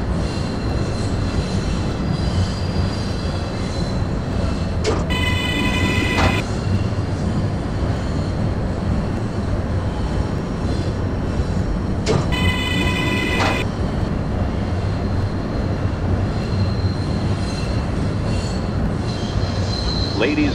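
A New York City J local subway train in a video game rumbles steadily along with loud metallic wheel squeals rising twice over the constant roar.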